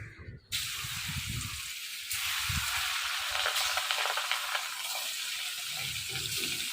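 Large pangas fish pieces hit hot oil in a village kitchen, bursting into a loud, dense sizzle that continues steadily up close, with a few low thumps and handling sounds underneath.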